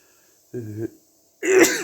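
A short voiced intake is followed by a sharp, explosive sneeze up close, in Dublin.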